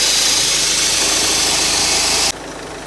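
A Peugeot 206 1.4 HDi diesel idles with an exhaust leak, a loud, steady, close rumble with rough hissing broadband noise that cuts off abruptly near the end.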